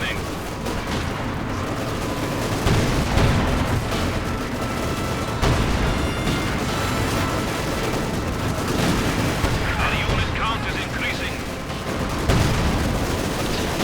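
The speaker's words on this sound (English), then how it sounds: "Panthers actually taking a bit of damage here from all the anti-tank rifles just constantly firing away." Anti-tank rifles and machine guns fire continuously in a Company of Heroes 2 battle, a dense stream of cracks and rattling bursts with occasional heavier booms, loud and sustained.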